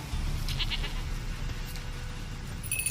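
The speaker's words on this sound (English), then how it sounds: "Here, goat. Here, princess. Hoofed and horned." A goat bleats in The Witcher 3: Wild Hunt, giving a few faint, short cries against a low, steady background rumble of game ambience, with no talking over it.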